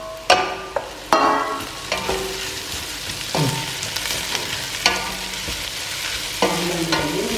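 Onions fry in a pan with salt, curry leaves and green chilies, a constant close sizzle punctuated by sharp scraping clacks of a spoon stirring every second or so.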